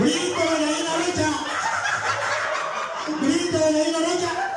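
At a first-birthday party, several voices mimic a hen's cackling cry, loud and nasal, with laughter-like bursts running continuously.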